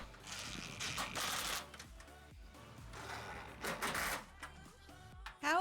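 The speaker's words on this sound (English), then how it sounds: "we went around and tightened up all the bolts" Bolts being tightened on assembled garden bed panels, with repeated ratcheting clicks and metallic rattles in short bursts, close and moderately loud.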